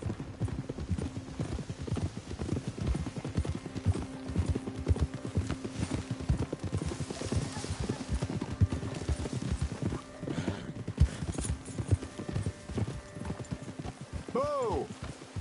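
Horse hooves clip-clop steadily on the ground in Red Dead Redemption 2, a continuous close rhythm of hoofbeats running through the whole stretch, with voices talking over them and a brief whinny near the end.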